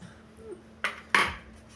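Mixed palak rice being spooned into a child's lunch box, heard as two short clinks of a spoon against the container, moderately close, with quiet pauses between them and no talking.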